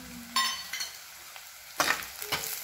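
Onions being stirred and sautéed in a pan for a village-style dry fish curry: a steady sizzle broken by a few louder scraping strokes of the spoon, close up, with no talking.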